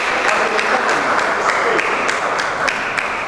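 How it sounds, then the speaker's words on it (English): Audience at an inter-school debate competition claps for a school's representative, a steady dense patter of applause filling the hall without pause. "Can we please clap for them?"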